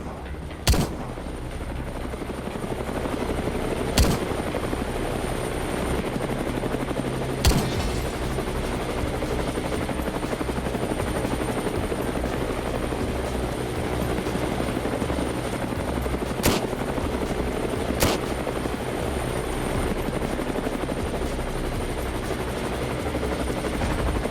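A helicopter drones steadily and loudly throughout, its rotor thrum constant, broken by a few sharp cracks of distant machine-gun shots during an aerial wild boar hunt.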